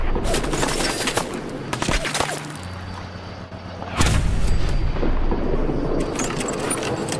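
Gunfire from Fallout 4, a modded playthrough at the Corvega Assembly Plant, comes as rapid cracks and bursts with a heavy boom midway, mixed with game ambience and scattered impacts.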